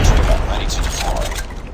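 Sentry gun deploying in Call of Duty Mobile, a loud, dense burst of mechanical clatter and heavy thuds filling the whole moment, fading slightly at the end.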